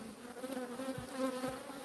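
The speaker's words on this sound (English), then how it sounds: "The remnant bees will come back. They're not really aggressive on this one." Bees buzzing around close by, a steady droning hum with slight pitch wobbles as individual insects pass, continuous and fairly soft with no talking.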